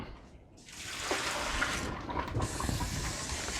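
Soapy water pours out of a Homgeek countertop blender pitcher in a steady, close gushing splash that runs nearly continuously, swelling slightly midway, with no voices.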